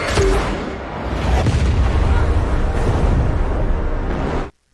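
A bazooka shot and fiery explosion from the action film Furiosa: a loud, sustained rumbling roar with dense debris and blast noise running steadily for over four seconds before cutting off abruptly.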